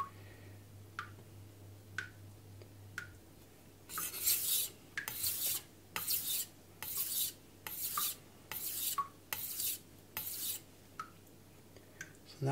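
Knife bevel honed on a Morihei Karasu 9k whetstone: quiet, evenly spaced rasping strokes, a few faint ones at first, then a steady run of nearly a dozen soft scrapes, each about half a second long, with no talk.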